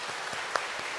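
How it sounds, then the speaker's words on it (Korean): A short burst of applause for teachers, a brief patter of many hands clapping together with no voices. "교사들 수고 많다고 박수 한번 이 시간에 하시면 어떻겠습니까?"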